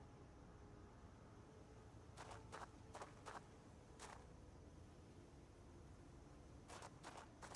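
Faint footfalls from a zombie in the video game Project Zomboid, a few soft taps in two short bursts, heard from a distance over a steady background hiss.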